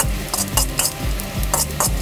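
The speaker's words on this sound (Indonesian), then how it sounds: "kita aduk sesaat seperti ini teman-teman" Ginger fries in hot oil while a utensil stirs it, producing rhythmic scraping strokes roughly every quarter second over a steady close sizzle.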